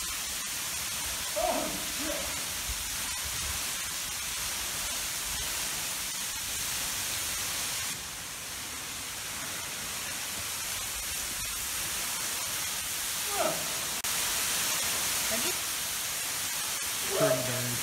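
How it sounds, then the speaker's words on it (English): Steady broadband rush of a waterfall on a Red Rock Canyon hike, a constant close wash of falling water that fills the whole clip, with faint brief voices and footsteps surfacing now and then. "And here we are at the waterfall."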